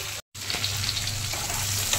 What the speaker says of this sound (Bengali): টমেটো বেশ ভালোভাবে ভাজা হয়ে গেছে, আলু তো আগেই ভাজা হয়ে গিয়েছিল